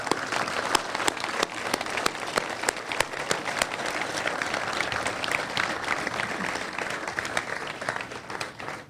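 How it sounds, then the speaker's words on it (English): A crowd at an outdoor memorial dedication ceremony applauds steadily, a dense even wash of many hands clapping that holds from start to finish without a break. "please clap for those people"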